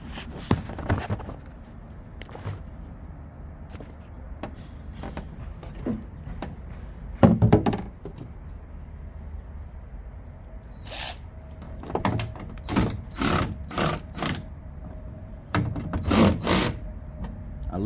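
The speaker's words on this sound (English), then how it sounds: "Let me loosen that bottom bolt, push it in, and then try it again." Tool work on the brake light assembly of a Ford F150 truck, with scattered clicks and scrapes, then a run of sharp ratcheting or clacking bursts near the end, close up with no talk.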